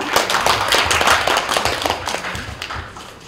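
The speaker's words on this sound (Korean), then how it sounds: "큰 박수 부탁드리겠습니다." An audience at a HACCP Korea 2019 panel discussion applauds, dense clapping that starts loud and slowly tapers off over a few seconds.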